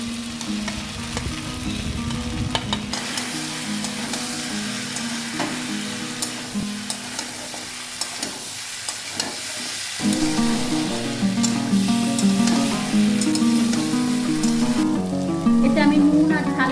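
Potatoes and crab pieces sizzle and fry loudly in an oily spice masala for a crab curry, with stirring scrapes throughout and the frying growing louder after new ingredients go in.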